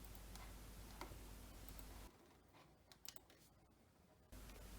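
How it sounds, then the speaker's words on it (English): Soft keystrokes tap on a computer keyboard as text is entered in Notepad, faint irregular clicks over a quiet background hum that drops away midway. "Test the keyboard here, all looking good."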